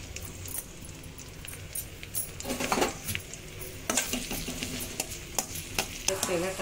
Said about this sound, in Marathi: गरम झालाय तर आपण मिरची टाकून घेऊ याच्यामध्ये।